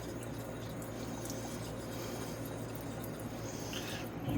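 Water is poured onto a 10K Koseki whetstone before honing, a faint steady trickling and splashing against a low background hum, continuous and close.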